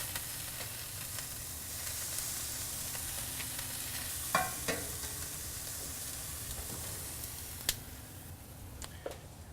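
Shish kebab skewers on a charcoal grill give a steady, soft sizzle throughout, broken by a few sharp pops and clicks, with no talking.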